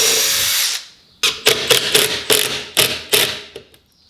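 Cordless power drill boring into wood for DIY kitchen toe kicks in a tiny house, a continuous whine that stops, then a series of short repeated bursts as the bit is pulled out and driven back in.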